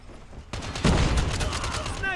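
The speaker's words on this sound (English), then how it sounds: "Sentry gun deployed" Sustained automatic gunfire from a deployed sentry gun in the mobile shooter Call of Duty Mobile, a dense rattling burst starting abruptly and continuing loud and close to the end, with other game sounds mixed in.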